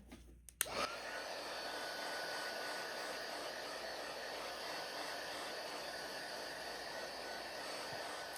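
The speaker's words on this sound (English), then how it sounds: "Now I could give it a little boost with my heat gun." A heat gun blows hot air over a decoupage craft piece made from scrap wood, a steady loud whooshing hum that starts after a brief click and runs unbroken to the end, with no voices.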